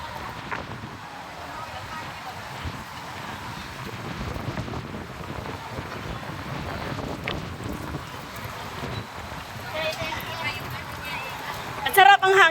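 Wind buffets the microphone outdoors in a low, steady rush while people talk nearby throughout.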